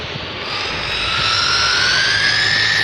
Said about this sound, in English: Here's the helicopter guys.